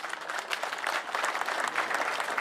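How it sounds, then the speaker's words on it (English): An audience gives teachers a steady round of applause at a school keynote speech, dense and continuous clapping from many hands filling the room without a break. "Shall we give a hand of applause to all our teachers?"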